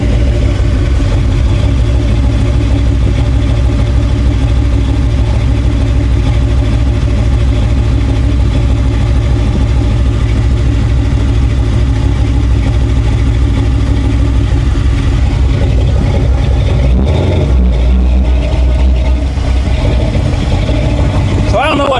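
Ford 302 V8 engine running in a vehicle, a steady loud low rumble throughout with a brief change in tone near the end as it loads up in drive.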